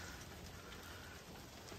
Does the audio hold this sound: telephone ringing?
no